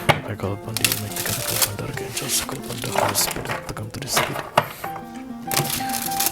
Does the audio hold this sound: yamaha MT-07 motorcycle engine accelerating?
no